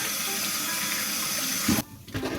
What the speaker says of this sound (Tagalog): Siyempre, hugasan natin yung lahat.